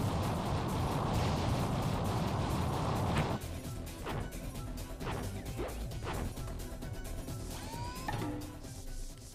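Fire attacks strike a tower in Sumioni: Demon Arts on the Vita, with a loud roaring burst followed by a string of crunching smashes and whacking impacts, some rising whooshing effects and a driving game soundtrack.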